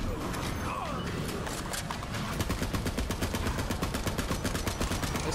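Rapid automatic rifle fire in the video game Borderlands 3, a dense, steady run of loud shots starting about halfway through, over a noisy backdrop of in-game combat.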